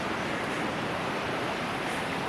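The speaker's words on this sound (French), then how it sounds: "il y a un autre petit ruisseau en face" A small creek runs steadily beside the Great Divide Trail, giving a constant, close rushing wash of water with no breaks and no voices.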